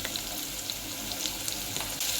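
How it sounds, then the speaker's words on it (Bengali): Potatoes frying in oil with salt and turmeric, an even steady sizzle and light crackling heard alone at close range through the short stretch. "আলুটা একটু লবণ হলুদ দিয়ে ভাজা করে নেব"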